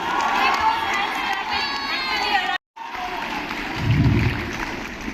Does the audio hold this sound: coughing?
no